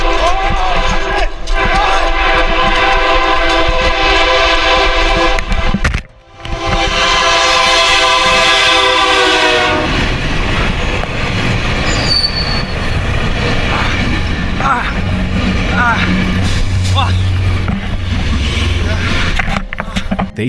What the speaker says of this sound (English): The train burst from the darkness behind them.